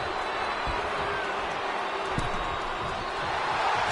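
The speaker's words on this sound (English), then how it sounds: "do you hear this capacity crowd?" Capacity crowd roaring steadily in a wrestling video game arena, a constant dense wash of cheering and murmur with a faint thump, no talk.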